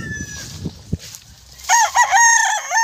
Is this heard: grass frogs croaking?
no